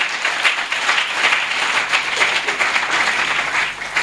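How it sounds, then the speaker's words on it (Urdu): Loud, sustained applause from a church congregation at a Christmas midnight service, dense steady clapping filling the whole stretch without pause. "آئیے ان کے لیے زوردار تالیاں بجائیں"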